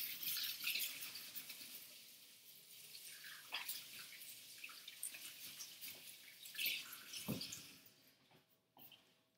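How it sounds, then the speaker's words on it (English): Hands being washed under a running kitchen tap while making vanilla custard, a steady broadband water rush with scattered drips and small splashes, close by and fading near the end, with no talking. "And then I am going to wash my hands."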